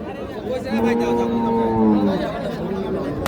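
A Sahiwal cow lows at a busy village cattle market, a drawn-out moo rising over steady crowd chatter, with people talking nearby.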